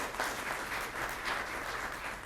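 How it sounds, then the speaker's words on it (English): An audience at a climate gathering of U.S. governors claps steadily, a dense even wash of applause with no voices over it. "let's give another round of applause to Jay Inslee."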